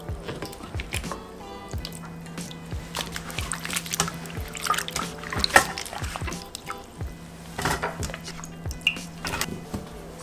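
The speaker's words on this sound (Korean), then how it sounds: "자, 물에다 한 번만 헹궈 줄게요." Salted bellflower root is rinsed in a bowl of water in a kitchen, with soft sloshing, dripping and light clinks of the bowl in an irregular rhythm, close and moderately quiet.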